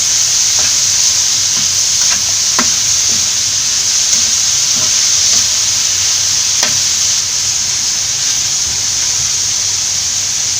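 Crushed ginger, garlic and green chilies sautéing in a hot pan, a loud constant hiss of frying broken by occasional clicks of a spoon stirring, no voices.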